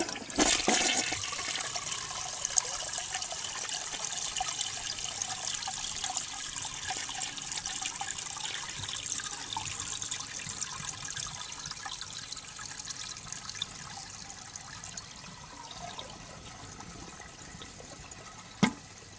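A 1970 American Standard Cadet toilet flushes with a loud initial rush of water that settles into a steady, continuous swirl and drain lasting many seconds, ending with a brief clunk.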